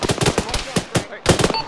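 Rapid bursts of rifle and machine-gun fire during an attack in the video game Arma 3, loud and close, with dense overlapping shots and a brief pause before another volley.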